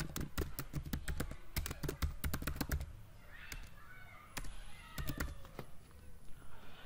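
Rapid clacking keystrokes on a computer keyboard, a quick burst of typing followed by a pause and a few scattered key presses, close and clear in a quiet room.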